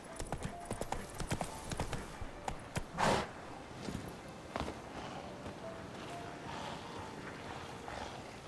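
Hooves of Geralt's horse Roach clop along in The Witcher 3, quiet rhythmic steps with a louder thud partway through, over a faint outdoor ambience.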